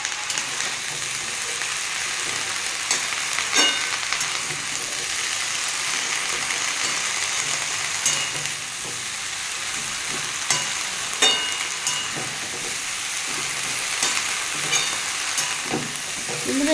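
Greens, eggplant and tomato, seasoned with turmeric and salt, sizzle steadily in a pan for lau shaker charchari, with intermittent scraping stirs of a utensil and no talking.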